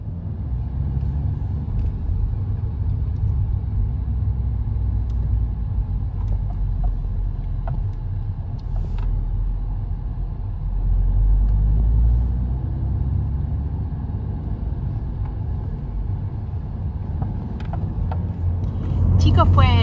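Steady low rumble inside a moving car heading home from a department store, a continuous drone with slight swells and no clear talk over it.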